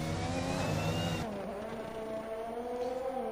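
In a racing video game, a race car on the Abu Dhabi circuit runs through its final turns, its engine whining loudly, then dropping sharply in pitch and volume as it lifts off, with faint commentary underneath.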